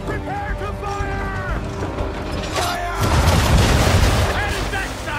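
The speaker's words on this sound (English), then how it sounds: "Prepare to fire!" Ship cannons fire in the video game Assassin's Creed 3, a heavy booming salvo arriving midway after clanking mechanical sounds and a musical score, with voices heard earlier in the clip.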